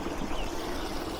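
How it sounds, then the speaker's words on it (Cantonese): A waterfall on a hiking trail near Mui Wo rushes with a steady, dense roar of falling water, continuous and fairly close, with no voices. "哇，好澎湃嘅水流啊"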